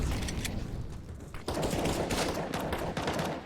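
Rapid pistol fire in a competitive shooter game, a dense burst of overlapping shots that grows louder and busier partway through, with no talk over it.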